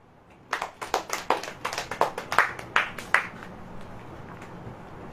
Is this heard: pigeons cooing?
no